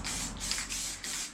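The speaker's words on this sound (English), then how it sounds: "old can of spray paint" Paint sprays from an old aerosol can in a close, steady hiss that swells and eases slightly in short pulses, with no talking.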